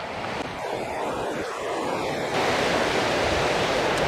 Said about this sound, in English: this right here is like the reclamated water from the water plants that are flowing